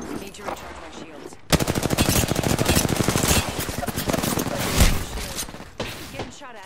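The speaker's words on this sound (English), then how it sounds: "Getting shot at." Rapid automatic gunfire from a battle-royale shooter video game, a dense sustained burst of shots that starts abruptly and rattles loudly for several seconds before fading to scattered background noise.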